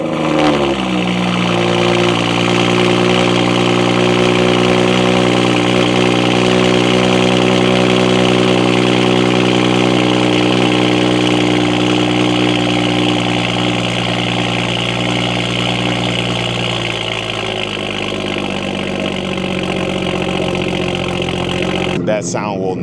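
A tuned BMW 440i with an AWE exhaust starts up and settles into a deep, loud, steady idle that holds for about twenty seconds, while a voice talks over part of it.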